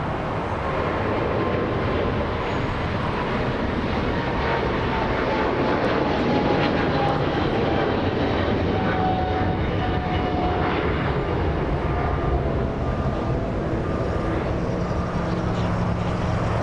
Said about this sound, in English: big boy 777 flying all the way to Japan today